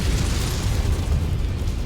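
Artillery shells explode in the MechWarrior 5 video game, a dense, rumbling, continuous roar of blasts with heavy low-end boom, loud and sustained with no clear pause.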